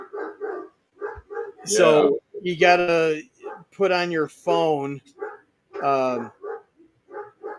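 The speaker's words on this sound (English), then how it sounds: "Sorry about the dogs in the background." Dogs bark repeatedly in the background, in sharp bursts scattered through the stretch while a person talks over them.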